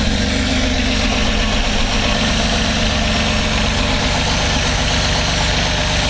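A Reliant Scimitar engine runs steadily and evenly on all cylinders on a basic carburettor tune, a loud continuous idle with a low throbbing rumble and no misfire gaps throughout.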